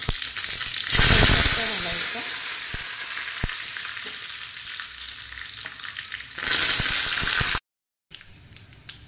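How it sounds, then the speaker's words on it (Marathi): Mustard seeds temper in hot oil for a coconut chutney, producing a loud, continuous close-up sizzle with crackling bursts that swells near the start and again near the end before a brief cut. "त्याच्यात थोडं मोहरीचं फोडणी द्यायची आपल्याला"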